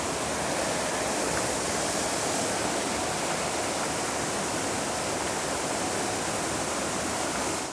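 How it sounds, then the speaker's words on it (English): Water running off the Cotswold Hills into the Stroudwater canal at Dudbridge Locks, a loud, dense, unbroken rushing roar like a weir or waterfall, close and constant throughout. "All of this water coming down from the nearby Cotswold Hills and entering the valley here."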